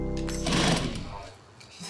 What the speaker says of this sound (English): sewing the panels together using robust and hard-wearing thread. perfect for heavy leather stitching